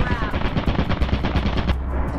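Automated turrets in the Lethal Company video game fire in loud, rapid bursts of gunfire, a dense continuous rattle through the whole stretch, fairly close and dominant.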